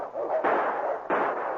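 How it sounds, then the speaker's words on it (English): Two sharp gunshots ring out about half a second apart as a sound effect in an old-time radio drama set in the Yukon, each a loud, close crack with a brief decaying tail. "Someone's coming. You hear those shots?"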